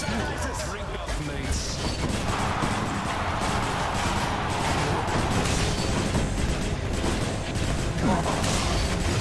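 Busy stretch of booming blasts and crashing impacts in the game Hades, layered with rapid fire, continuous and loud, with a voice talking over the din.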